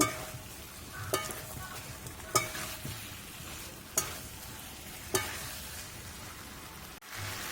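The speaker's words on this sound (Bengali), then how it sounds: "এবার আমি ভেজে রাখা আলুগুলো দিয়ে দেব। দিয়ে ভালো করে কষিয়ে নেব।" Fried potatoes stir-fried in spice masala for Kashmiri aloo dum, a quiet continuous sizzle punctuated by about five distinct spatula scrapes and knocks against the pan at a slow, uneven pace, with no talk.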